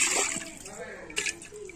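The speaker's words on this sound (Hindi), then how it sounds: "आज दही है थोड़ा कम इसलिए पानी डालना पड़ेगा।" Water splashing as it is poured into a bowl of curd in a village kitchen, a short splatter at the start and another brief slosh, with someone speaking over it.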